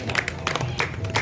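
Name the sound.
applause at a children's festival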